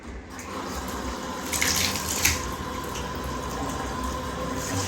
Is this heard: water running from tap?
yes